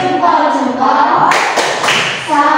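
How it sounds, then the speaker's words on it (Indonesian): A classroom group gives a brief salute clap for group 2, a short burst of hand claps rising over a speaking voice and fading back under talk. "Beri tepuk salut untuk kelompok 2."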